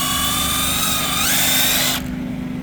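A power drill spinning in reverse drives a nylon brush into bolt holes on a JLG Ultra Boom turntable bearing, a close, loud high-pitched whir that climbs slightly in pitch and then cuts off abruptly after about two seconds.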